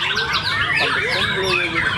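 A white-rumped shama sings at a bird contest, pouring out rapid varied whistles, trills and sweeping notes, loud and close, with other birds and faint background noise around it.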